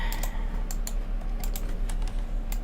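Rapid clicks of keys being pressed on a computer keyboard, several crisp taps at an uneven pace over a steady background hum.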